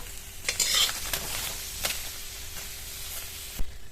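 Tomato wedges fry with spices and vegetables in a pan for an egg and eggplant dish, a soft sizzle under intermittent stirring scrapes and light spoon taps, fairly quiet and close, with no voices.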